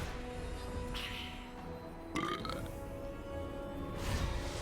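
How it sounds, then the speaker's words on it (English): A short in-game burp sound effect from a competitive video game match, a low croaking belch partly buried in steady game noise and background bustle. "That wasn't me that burped. That was in game."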